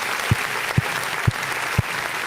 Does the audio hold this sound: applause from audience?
yes